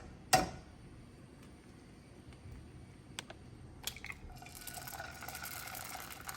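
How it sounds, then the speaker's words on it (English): An egg is cracked into a pan with one sharp, close crack near the start, followed by faint ticks and a soft, growing sizzle-like hiss in an otherwise quiet kitchen. "So I'm gonna crack the egg."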